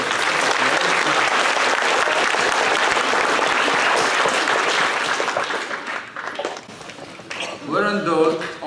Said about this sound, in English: Let's have a round of applause for Martin.